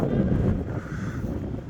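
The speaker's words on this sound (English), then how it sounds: "It's windy" Wind on Blackpool promenade buffets the microphone with a low, uneven rumble that is strongest in a brief gust at the start and then settles to a steadier blustery roar.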